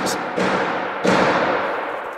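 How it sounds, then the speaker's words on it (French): Two heavy gunshots ring out on the first floor of a house, the first a short blast and the second, about 0.7 seconds later, louder and more booming, each trailing off in a reverberant decay. "c'est des coups de feu, puis ça vient du premier étage."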